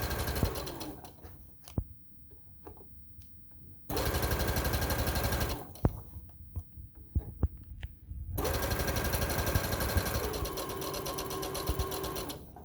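A sewing machine stitches a seam on pajama shorts in several bursts of steady, rapid mechanical whirring, with brief pauses between runs and no one talking.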